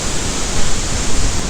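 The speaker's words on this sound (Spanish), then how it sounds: "dejamos hasta el final lo más bonito, la cascada Tulimán de 300 metros" The 300-metre Tulimán waterfall in Zacatlán, Mexico, gives off a loud, steady, broadband roar that fills the whole span with no break or voices.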